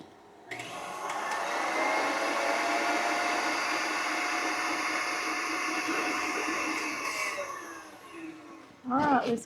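Electric hand mixer whirring steadily as powdered sugar and almond extract are whipped into cream for strawberry shortcake, a loud continuous motor drone lasting most of the clip before cutting off, followed by a brief voice.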